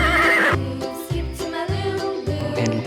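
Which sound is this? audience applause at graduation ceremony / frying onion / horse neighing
horse neighing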